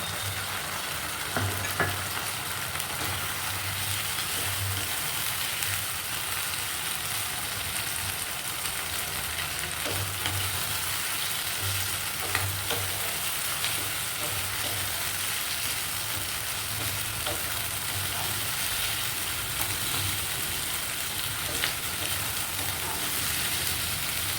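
Chicken fries in a pan with a steady, dense sizzle and crackle that holds evenly throughout, close and fairly loud, alone with no talking and a faint low hum beneath.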